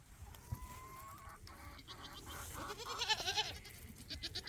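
Goats bleat and chickens cluck and call around an Oklahoma homestead, several animals sounding close and overlapping in bursts, fairly quiet overall.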